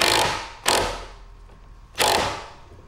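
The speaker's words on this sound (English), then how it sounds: "Using a 21 millimeter socket, we're just gonna break this." A ratchet with a 21 mm socket breaks loose a wheel nut on a Mercedes E63 W212, giving two sharp, close, bursts of clicking separated by a quieter pause.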